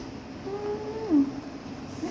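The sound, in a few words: cat meowing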